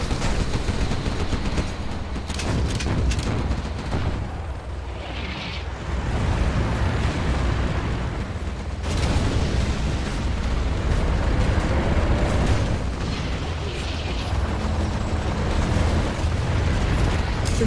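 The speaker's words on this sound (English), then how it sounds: "We have launched our nuclear missile." Nuclear missile launch in Command & Conquer Generals, a continuous loud rumbling blast with heavy roaring bursts and explosive booms that swell and fade across the span.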